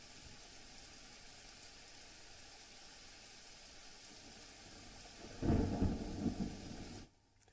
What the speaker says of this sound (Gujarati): દાહોદમાં વરસાદ આવતા બેવડી ઋતુનો અનુભવ થયો છે